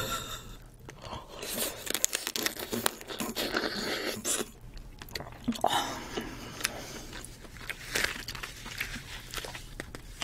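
King crab shell being cracked and torn apart while eating, close crunching, snapping and crinkling in irregular bursts, fairly quiet and intimate.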